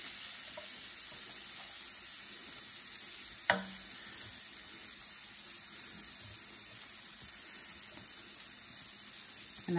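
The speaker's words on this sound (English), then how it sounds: "And right away we can start putting the croutons in." Croutons sizzle in butter in a hot pan, a steady, soft frying hiss with no talk over it, plus one brief clatter near the start.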